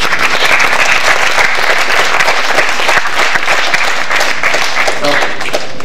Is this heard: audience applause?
yes